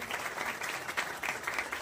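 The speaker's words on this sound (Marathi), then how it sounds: "सुरुवातीला जोरदार टाळ्या वाजवूयात या सर्व गुणवंत विद्यार्थ्यांसाठी" A crowd at a school students' felicitation ceremony claps steadily, a dense, even patter of applause that sounds somewhat distant and subdued.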